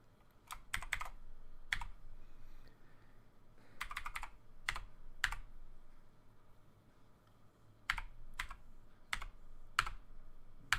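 Fingers type a code on a computer keyboard, sharp key clicks in short separate bursts with pauses between them, quiet and close in a still room.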